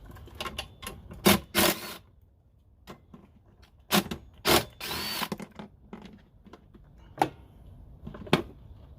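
A 14 mm socket on a power tool spins out the top strut bolts of a 2005 Toyota Prius in several short, loud whirring bursts separated by quieter pauses and small ratcheting ticks.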